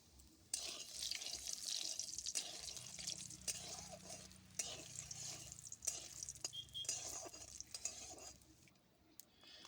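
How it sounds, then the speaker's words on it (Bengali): Cashews and raisins fry in oil in a kadai, a soft close sizzle broken by scraping and clinking stirs, with a low hum in the background and no talking. "কাজু আর কিশমিশটা ভেজে নেব"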